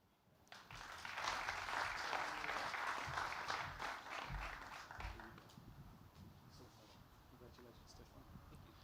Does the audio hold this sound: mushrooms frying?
no